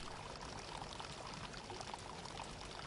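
Water pours steadily from an Inca stone fountain at Machu Picchu, a constant splashing rush with no break or change throughout.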